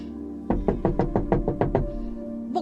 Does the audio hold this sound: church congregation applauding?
no